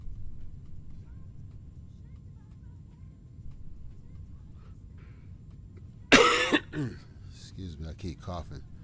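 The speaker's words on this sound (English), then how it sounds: "Excuse me, I keep coughing." A sudden close cough bursts out after several seconds of quiet room noise, followed by throat clearing and a few spoken words from a man.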